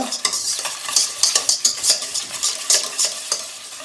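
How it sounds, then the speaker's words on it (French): Butter is creamed in a bowl with a utensil, a rapid rhythmic series of scraping, slapping beats, close and steady, with no one speaking. "On va commencer par crémer notre beurre."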